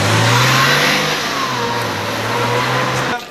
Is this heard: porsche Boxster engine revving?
yes